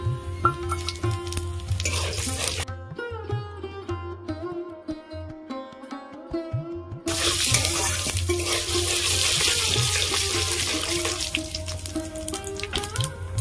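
Dry red chillies, bay leaf and whole cumin drop into hot oil for a koi fish curry, breaking into a loud, sustained sizzle that follows a quieter stretch with background music.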